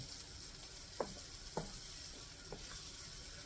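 Refried beans with taco seasoning are stirred in a pan, with a soft steady sizzle and three quiet scraping strokes spaced about a second apart, close and faint.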